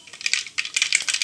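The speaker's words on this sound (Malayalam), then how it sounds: "കടുകിട്ട് പൊട്ടട്ടെ." Mustard seeds splutter in hot coconut oil, a quick close burst of bright, crackling pops and ticks coming in uneven clusters.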